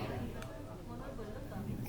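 A woman hiccups while seated before a plate of food at a meal. A few soft, isolated hiccups sit low in a dull room murmur, with a slightly sharper one near the start.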